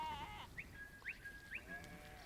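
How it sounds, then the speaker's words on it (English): Sheep bleating on a farm while being herded in by a sheepdog for shearing, a few short bleats close by over a steady outdoor background. "They were moving the sheep toward the farm because it was time to have their woolly coats clipped."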